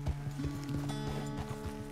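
A horse's hooves clip-clop at a steady walking rhythm in the video game Red Dead Redemption 2, close and fairly quiet, with tonal music or ambience running underneath.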